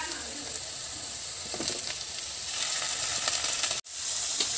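Ginger garlic paste sizzling in ghee with onions for a Mangalore-style egg masala, a steady close hiss and crackle with faint stirring, briefly cutting out near the end.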